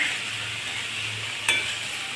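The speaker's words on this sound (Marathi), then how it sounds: "व्यवस्थित परतून घेणे." Sprouted moong being stirred and sautéed in a pan, a soft continuous sizzle with one brief scrape of the spoon against the pan, close and alone.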